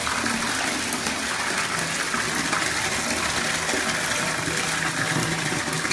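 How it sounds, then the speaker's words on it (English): Water gushes steadily into a bathtub filled with bubbles, a continuous loud rushing and splashing stream throughout with no pauses, close up and with no talk over it. "Get it in the stream of water there."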